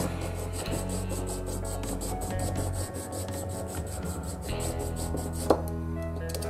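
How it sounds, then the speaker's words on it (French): Small saw cutting into an Adolf Galland figurine, steady rapid rasping strokes in a quick even rhythm, close and continuous with one brief sharper click near the end. "On va venir commencer à scier ici."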